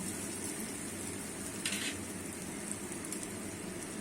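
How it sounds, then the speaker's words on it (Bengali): Onions frying in oil with salt, a faint even sizzle and crackle heard close up, with a brief scrape of stirring partway through and no talking. "লবণটা দিয়েও আমি আরো কিছুক্ষণ পেঁয়াজটাকে কষিয়ে নেব।"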